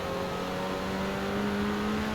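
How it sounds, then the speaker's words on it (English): A 2018 Renault Megane R.S. engine braking while climbing a hill in the racing game Forza Horizon 4, a loud, steady droning engine tone that holds constant for the whole span. "Use a little engine braking to slow down up the hill."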